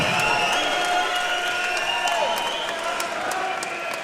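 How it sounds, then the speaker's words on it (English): A crowd at an Eternal MMA event in the Narang PCYC roars with sustained cheering and applause, a broad steady wash of noise with whistles and voices rising through it. "Crowd's going nuts."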